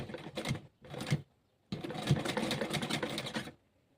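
A sewing machine stitches the hip seam of an A-line kurti with a flat collar in a rapid, rattling run, a short burst, a second burst, a pause, then a longer steady stretch before stopping.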